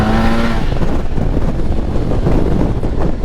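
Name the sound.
Yamaha T-Max 560 scooter with Akrapovic exhaust and baffle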